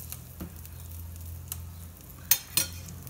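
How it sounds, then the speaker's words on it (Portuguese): A sandwich toasting with butter on top in a covered pan gives a quiet, steady sizzle, broken by a few light clicks and a couple of sharper metallic taps near the end. "Vou colocar aqui o nosso lanche para assar aqui."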